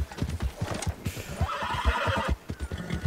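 A horse in a video game neighs with a bright whinny partway through, amid clip-clopping hoof steps close by and no talk.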